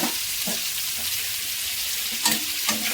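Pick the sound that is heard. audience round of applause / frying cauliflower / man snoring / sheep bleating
frying cauliflower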